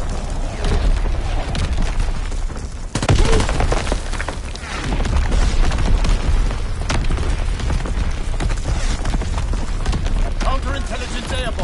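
Artillery strike in a video game, a dense, loud stream of booms and blasts rolling almost continuously with crackling debris, while voices talk over it.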